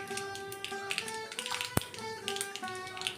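Mustard seeds spluttering in hot coconut oil make quiet, irregular popping and tapping crackles close by, with one sharper snap standing out among the scattered pops.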